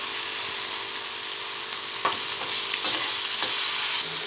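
Small fish frying with chopped ginger and garlic in a pan: a bright, steady hiss of hot oil with a few soft scraping stirs in the later part.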